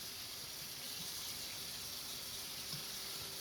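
A tie-dyed spiral shirt rinsed under a running tap, a steady, faint rush of water without pauses.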